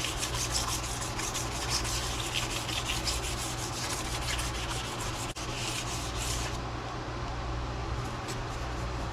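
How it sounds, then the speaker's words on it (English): Wet sanding an Enfield rifle part with 400 grit sandpaper gives a steady, close rasping rub in quick back-and-forth strokes, continuous for several seconds before easing off. "400 grit sandpaper, which can do a wet sand, right? And we're just going to wet sand."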